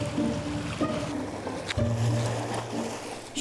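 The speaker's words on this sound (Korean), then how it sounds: "쉴 새 없이 파도가 밀려드는 갯바위에 도착하니" Sea waves wash in ceaselessly against rocky coastal outcrops, a continuous broad wash of surf with a low rumbling swell building partway through, heard fairly close with no talking.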